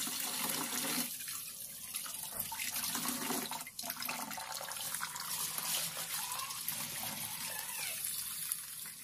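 Tap water runs steadily into a sink as rice is washed, a faint continuous splash with small bumps and handling noises.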